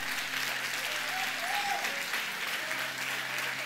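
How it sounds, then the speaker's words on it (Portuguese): Church congregation applauding during a Portuguese-language sermon, steady continuous clapping heard at moderate distance with a low hum underneath. "Pode aplaudir, meu irmão."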